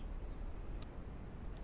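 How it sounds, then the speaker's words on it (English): Birds chirp outdoors in a quick run of high, thin calls early on, then fall quiet over a steady low rumble of wind. The calls are faint and distant, and no one speaks. "All I hear are birds chirping"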